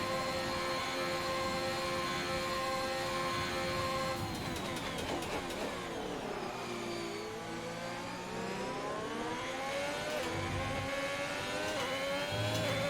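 A Formula 1 car engine in the racing game F1 2021 drones steadily with rising and falling harmonic whines as the car accelerates and shifts, loud and continuous throughout, with no talk.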